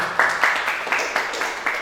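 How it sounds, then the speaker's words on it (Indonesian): A steady, dense patter of clapping from a group at a school seminar, with rhythmic pulses, moderately loud and close. "Terima kasih Mas Sarip, tepuk tangan Mas Sarip."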